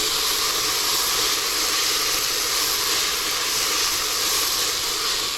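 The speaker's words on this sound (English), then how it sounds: "Nice little caramelization is going on." A lasagne base sizzles and caramelizes in a hot pan, making a loud, steady, close hiss that holds evenly throughout, with no talking.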